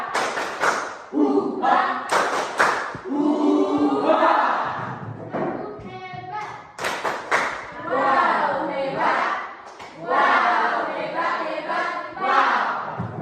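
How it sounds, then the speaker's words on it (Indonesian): A group claps the rhythmic 'tepuk semangat' and 'tepuk hebat' clap routines indoors, sharp bursts of hand claps mixed with chanted voices and crowd noise in quick patterned sequences. "Tepuk semangat. Tepuk hebat."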